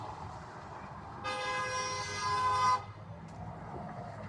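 A single sustained car horn blast from a passing car at a vaccine mandate protest in Santa Clarita Valley, lasting about a second and a half, moderately loud over low traffic rumble, with no talking.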